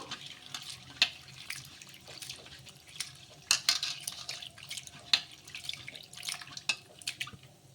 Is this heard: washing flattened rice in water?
yes